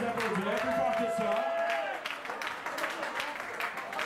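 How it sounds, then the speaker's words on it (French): An audience at a college ranking announcement applauds a team, steady clapping and crowd noise with a held musical tone at first, then continuing applause alone. "on peut les applaudir plus fort que ça"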